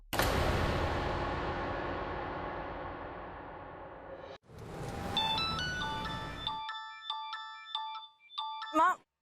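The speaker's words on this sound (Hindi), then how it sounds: "माँ देखना किसका फोन है प्लीज।" A mobile phone ringtone plays as a bright, repeating electronic melody with distinct tonal notes. It follows a loud, busy stretch of other sound and rises toward the end.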